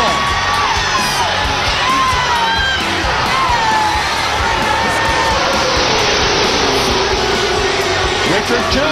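A huge NASCAR race crowd of 170,000 roars and cheers continuously with loud whoops, while a commentator talks over the din.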